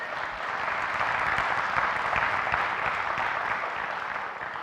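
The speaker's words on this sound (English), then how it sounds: "now you can clap" A roomful of people at a spiritual retreat orientation session applaud in a dense, sustained wash of clapping that swells and then eases slightly toward the end.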